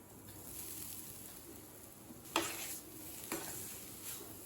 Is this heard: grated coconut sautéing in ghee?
yes